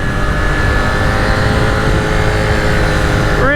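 A 2021 KTM 890 Duke R twin-cylinder motorcycle accelerates hard toward 80, its engine droning loud and steady with rising pitch over strong wind rush, then a gear change at the very end.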